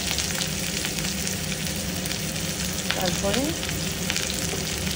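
Garlic fries in a pan with a continuous sizzle, close and steady, while a voice speaks briefly over it.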